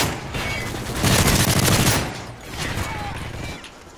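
Rapid gunfire from the video game Call of Duty: Modern Warfare 3 rattles in a loud, dense burst that swells, drops, then resumes before fading out near the end.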